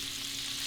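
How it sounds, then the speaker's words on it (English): Chicken frying in a fryer in the video game Chicken Fries, a steady hissing sizzle heard briefly and evenly, fairly loud and alone without talk. "You are still frying, you're good."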